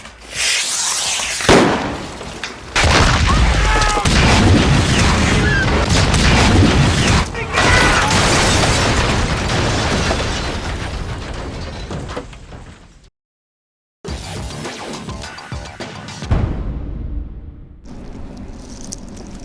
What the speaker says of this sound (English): 3, 2, 1, rocket!